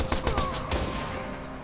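Sniper gunfire in the video game Watch Dogs, a quick series of sharp, moderately loud shots in the first second that fade into a lingering ringing tail.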